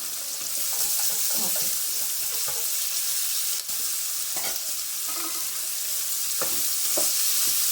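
Capsicum frying in plenty of oil with a steady bright sizzle, punctuated by scrapes and knocks of a spoon stirring in the pan, close and continuous.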